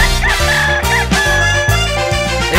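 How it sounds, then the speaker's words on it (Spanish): A rooster crows repeatedly over a bouncy musical backing with a steady beat, loud and up front, as in a children's song. "Cada día que amanece es el gallo que aparece y hace."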